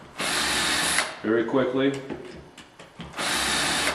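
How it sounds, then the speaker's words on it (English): A power drill fitted with a self-centering Vix bit bores hinge holes in a wooden kitchen cabinet: two loud, high whining bursts framing a stretch where someone speaks briefly. "I just have a drill with a Vicks bit on the end"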